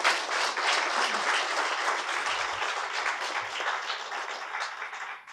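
Dense, sustained applause from an audience in a meeting room at an official-language conference fills the whole stretch, loud and steady before tapering off at the very end.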